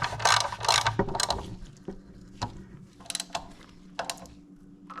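A hand ratchet clicks in quick bursts, close by, tightening 10 mm front fender bolts on a Honda Goldwing GL1500 motorcycle, with metallic taps and creaks between the strokes.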